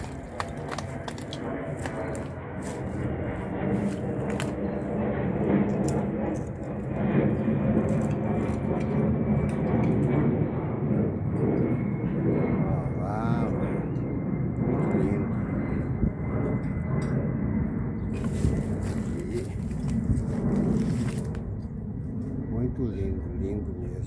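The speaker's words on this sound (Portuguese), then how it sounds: "Tá passando um avião aqui em cima." An airplane drones overhead, a steady rumbling roar that swells and fades slowly, with people talking nearby throughout.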